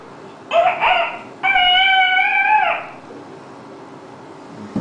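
A child imitates a rooster crowing: two short clipped notes followed by a long, wavering cock-a-doodle-doo call, close and loud.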